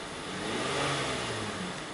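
A Hyundai car engine revving steadily in a short, continuous burst, a mid-pitched hum rising slightly and holding, moderately close with no talking.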